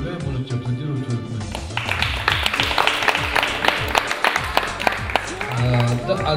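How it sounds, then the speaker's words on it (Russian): Audience at a televised music contest applauding, with scattered sharp claps that build into a denser round under a talking voice. "Можно аплодировать."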